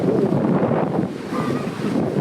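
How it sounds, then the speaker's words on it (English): Wind gusts steadily across an open outdoor spot in a national park on a cold day, a loud continuous rumble buffeting the microphone with no voices. "So it's kind of windy and cold"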